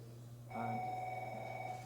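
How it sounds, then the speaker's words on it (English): A telephone rings in a room at steady, moderate volume, a sustained electronic trill that starts abruptly and holds through the end, with faint background hum. "Oh, it's the phone."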